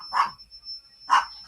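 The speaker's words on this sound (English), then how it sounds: "Wow, that's a lot of barking." A small dog, a Chihuahua, in a house barks at someone at the door, two sharp loud barks about a second apart, close, over a faint steady electronic hum.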